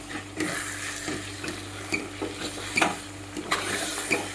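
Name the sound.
mixing onion into garlic-red chilli chutney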